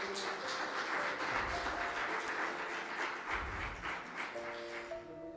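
Church congregation applauding after a sermon passage, with a sustained wash of clapping filling the room while a low rumble and faint tones from instruments or the sound system sit underneath.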